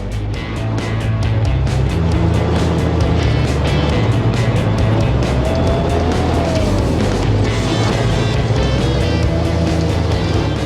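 A T55 tank engine running, heard from inside the hull: a loud, steady low rumble with rhythmic mechanical clatter that goes on without a break, no voices over it.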